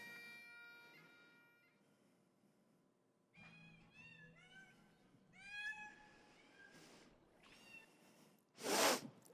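Kittens meow repeatedly in short, rising and falling cries, several overlapping from close by, with a sharp louder burst near the end; a low background hum sits underneath.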